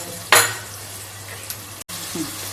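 Ginger garlic paste frying in a pan over low gas: a brief loud burst of sizzle as it goes in, then a soft low frying hiss with a faint scrape or two.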